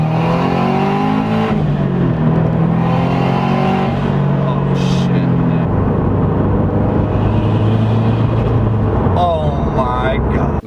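A turbocharged Subaru BRZ engine pulls hard under acceleration, its rising and falling harmonic whine steady and loud throughout, with a voice talking over it near the end.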